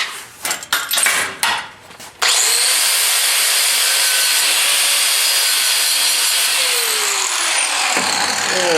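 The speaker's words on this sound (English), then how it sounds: "I should probably sand that smooth again real quick, just to make sure that it's nice and smooth for finish." A wooden sign being sanded smooth before finishing: some brief handling clatter, then a loud, steady, continuous rasping scrub that holds for several seconds before easing off near the end.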